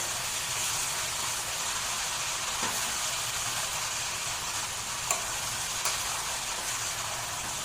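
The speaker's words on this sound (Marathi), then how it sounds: "तर असं हिला आपण छान एकजीव करून घेऊया कांदा आणि लसणासोबत।" Greens fried with onion and garlic in a small kadai give a continuous close sizzle, with a few faint scraping clicks from stirring and no talking.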